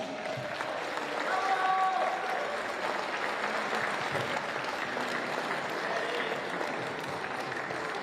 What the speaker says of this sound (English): Round of applause for these young lads.